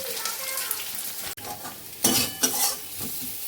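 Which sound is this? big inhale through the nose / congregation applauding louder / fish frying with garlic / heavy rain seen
fish frying with garlic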